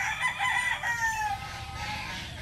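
A local born fighting cock crows close by, one drawn-out call that fades toward the end, with no other sounds around it.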